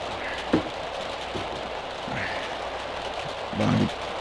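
Heavy rain hisses steadily and evenly throughout, a dense wash of falling drops with a couple of soft thuds breaking in, and no one speaking over it.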